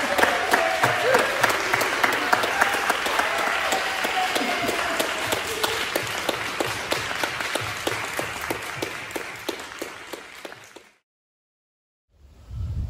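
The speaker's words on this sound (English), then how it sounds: "I invite you now to welcome Teresa by clapping and by sharing in the chat box." A worship congregation claps steadily to welcome a reverend, a dense, sustained round of applause that fades out into silence before other sound returns at the close.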